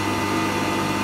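A woodturning tool is ground on an aluminium oxide wheel, giving a continuous dense whirring grind with a steady motor drone at close range.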